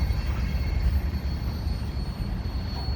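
A freight train hauled by three ex-CN SD40-2 locomotives rumbles past at Decarie, Montreal, at a steady level. Low-end roar with faint rail noise, continuous and fairly close, no voices.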